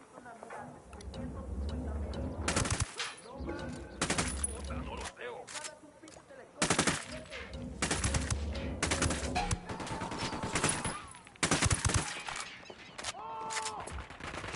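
Bursts of gunfire in the game Ghost Recon Wildlands, several loud rapid volleys separated by quieter stretches, with game voices talking in between.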